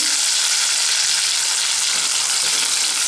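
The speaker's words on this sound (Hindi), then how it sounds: "अब इसमें डालेंगे टमाटो प्यूरे।" Tomato puree fries in a pan with whole spices for a hotel-style matar paneer. It makes a loud, steady, close sizzle that keeps going without a break and with no talking.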